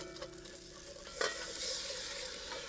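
Marinade is poured gradually into a pot roast with floured vegetables and stirred, a soft wet sizzle and faint scraping at a low level, with one brief clink.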